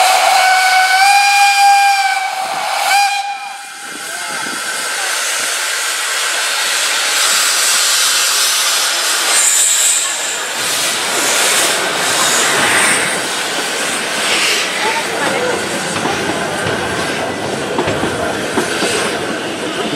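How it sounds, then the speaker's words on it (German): Steam locomotive 108 at a locomotive parade at the Landquart roundhouse, opening with a loud, sustained steam whistle blast, then heavy hissing steam and rumbling as the engine pulls away, close and loud throughout. "mit dem eindrücklichen Abgang von der Lokomotive 108 geht sie jetzt in die Garage"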